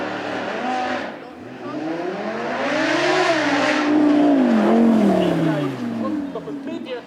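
An Audi R8 V10 Plus with its 5.2-litre 610 hp V10 on a track at a supercar event, revving and rising in pitch loudly and continuously before easing off, with a commentator talking over it.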